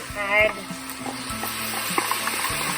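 Onions sizzle and crackle steadily in a hot pan, with a brief clatter near the start.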